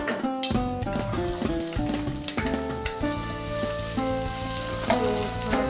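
Onions fry in a little oil in a pan, a loud steady sizzle with stirring scrapes and clinks throughout, close and without talk.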